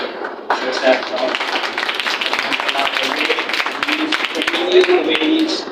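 Audience clapping at an English-language speech at the Iqra-ul-Quran institute in Rahim Yar Khan: a dense, steady round of applause from many hands that starts abruptly and keeps going at an even loudness throughout.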